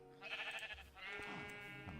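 A sheep bleats in the Minecraft video game, a short wavering call repeated twice in quick succession, loud and close, with no voices.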